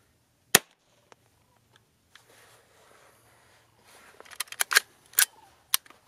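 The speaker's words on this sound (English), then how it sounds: "I'm gonna try to shoot this pistol. I'm shooting CCI quiet right now." Suppressed-sounding .22 LR shots from a Palmetto pistol upper using CCI Quiet ammunition with a magazine adapter for Smith & Wesson M&P 15-22 mags, outdoors at a range: one sharp crack, a few faint ticks, then a burst of several quick snaps.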